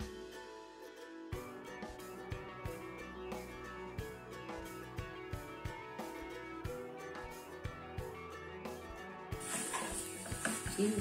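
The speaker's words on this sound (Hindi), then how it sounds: "मैक्रोनी को हम अच्छी तरह से इसमें मिक्स कर लेंगे।" A spoon stirring boiled macaroni into chicken and vegetable sauce in a pan, giving rhythmic scraping knocks against the metal over a low sizzle, with a brief louder hiss near the end.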